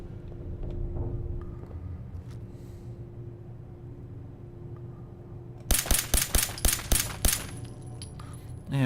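A rapid burst of about eight sharp gunshots fired at a lock in the video game Fallout 4, loud and close after a quiet stretch of low ambient hum.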